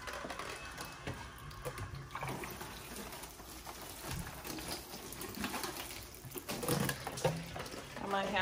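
Water poured from above onto indoor seedlings in pots, a steady splashing, trickling wash with a faint mechanical hum underneath, fairly close and continuous.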